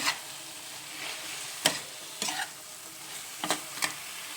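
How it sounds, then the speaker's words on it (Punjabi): Fried fenugreek leaves being stirred into roasted peas in a pan, producing a steady soft sizzle broken by several sharp scraping strokes of the spoon. Close and clear, with no one talking. "ਅਸੀਂ ਹੁਣ ਸਾਰੀ ਮੇਥੀ ਜੋ ਫਰਾਈ ਕੀਤੀ ਹੋਈ ਉਹ ਵੀ ਵਿੱਚ ਪਾ ਦਾਂਗੇ ਅਤੇ ਉਹਨੂੰ ਚੰਗੀ ਤਰ੍ਹਾਂ ਮਿਕਸ ਕਰ ਲਵਾਂਗੇ"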